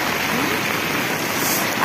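Water patters steadily onto an umbrella in the rain, a dense, continuous hiss of drops at close range with no pause across the short stretch.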